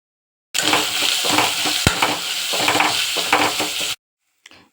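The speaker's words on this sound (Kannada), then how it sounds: "ಒಂದು ಪ್ಯಾನ್ಗೆ ಎಣ್ಣೆ ಹಾಕ್ಕೊಂಡು ನಾವು ತೊಗೊಂಡಿರೋ ಇಂಗ್ರೀಡಿಯೆಂಟ್ಸ್ ಎಲ್ಲನೂ ಎಣ್ಣೆಲಿ ಹಾಕಿ ಫ್ರೈ ಮಾಡಬೇಕು" Ingredients for a Mandya-style chicken gravy fry in oil in a pan, giving a loud, dense sizzle with rhythmic stirring scrapes and one sharp clink, then stopping abruptly before a faint trailing rustle.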